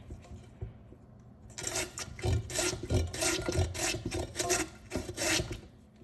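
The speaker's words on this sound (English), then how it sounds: "I have a potato here and I'll use each grater in each bowl so you can see it." A potato is rasped against a stainless steel grater, likely the coarse blade fitted over a mixing bowl, in steady close, loud back-and-forth strokes after a quiet start, with no talking.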